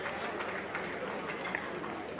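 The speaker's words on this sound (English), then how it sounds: "a round of applause for Prince Akintoye Adeoye" Audience applause for Prince Akintoye Adeoye at a presidential investiture event, a steady, faint wash of many hands clapping heard from a distance, with no clear pauses.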